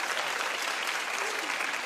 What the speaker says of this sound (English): Clap if you care.